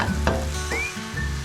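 Buckwheat crepe batter sizzles steadily in a hot pan, a continuous close frying hiss with a few soft scraping touches and no voices.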